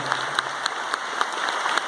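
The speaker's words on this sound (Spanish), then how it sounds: "Demos un aplauso de acción de gracias." An audience at an evangelistic church gathering claps in thanksgiving, a dense, steady patter of applause from many hands filling the room with no voices over it.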